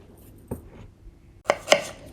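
A kitchen knife cuts carrot into 1-centimeter sticks on a cutting board, with three sharp, close chopping knocks, one alone and then two in quick succession.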